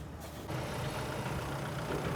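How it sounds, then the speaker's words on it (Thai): A tractor engine idles steadily as a low, continuous rumble at close range, with no voices. "ทีมงานรถไถ มาอีกแล้วหนึ่งคัน"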